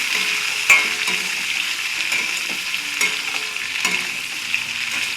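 Ivy gourd (kundri) frying in oil in a pan, a steady loud hiss broken by sharp scrapes and taps of a spatula stirring, with no one speaking.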